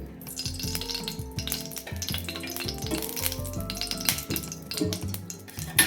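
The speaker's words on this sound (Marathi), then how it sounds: "आता आपण गॅसवर कढई ठेवलेली आहे त्यामध्ये थोडं तेल घालते मी" Hot oil sizzles and crackles steadily in a wok-like kadhai pan as green chillies are sautéed, with occasional metallic clinks of a utensil close by.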